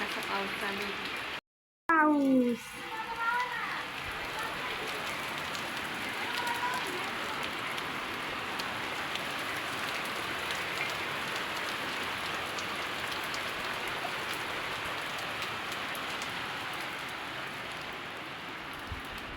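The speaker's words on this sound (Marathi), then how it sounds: "खूप पाऊस आला आज" Heavy rain pours steadily on a surface, a dense continuous patter, briefly interrupted near the start by a short voice and a sudden cut.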